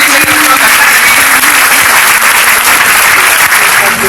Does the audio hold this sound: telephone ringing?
no